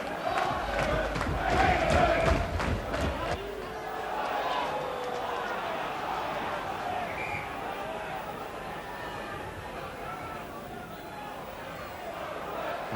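A football crowd roars loudly at Oxford United's ground during a League Cup quarter-final against Manchester United, then settles into a steady murmur beneath a commentator's talk.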